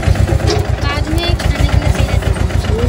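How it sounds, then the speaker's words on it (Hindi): The engine of a mini tractor hauling a leveling plank in a field runs with a rapid, loud, even chugging pulse, while someone talks over it. "और ये देखिए इस तरीके से ये ट्रैक्टर चलता है, मैं आपको दिखा रहा हूँ चलते हुए।"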